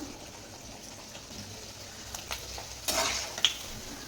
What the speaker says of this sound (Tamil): எண்ணெய் சூடானதும் இதை எல்லாத்தையும் ஒன்று ஒன்றா எடுத்து போட்டு பொரிச்சு எடுத்துக்கலாம்